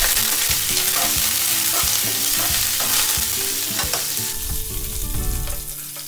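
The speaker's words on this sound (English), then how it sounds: "Saute it again for 10 seconds and add the finely chopped onions." Finely chopped onions sautéing with sliced green chilies and curry leaves for a tangy tomato curry, a steady close sizzle broken by repeated stirring scrapes, with a louder bubbling burst near the end.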